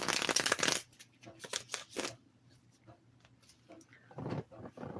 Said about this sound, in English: I've already shuffled the cards, but I will shuffle them one more time